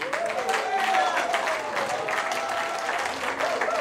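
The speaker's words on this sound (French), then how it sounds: "C'est important d'applaudir ces dons, c'est très important." Audience applause at a humanitarian conference greets pledged donations, a steady wash of many hands clapping at moderate volume throughout, with faint voices mixed in underneath.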